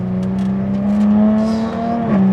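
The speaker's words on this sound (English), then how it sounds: "So listen to the pipe now that it's a bit warm." A Jaguar F-Type sports car with standard exhaust pipes, warmed up, holds a loud, steady deep engine drone close by that swells slightly in the middle and dips briefly near the end, with no talk.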